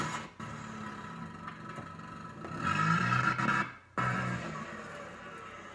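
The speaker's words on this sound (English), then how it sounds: "if you said it was a car starting, you are correct" A car engine cranks and starts, its mid-pitched running rumble rising around the middle and briefly dropping out before resuming steadily, heard close with no talk.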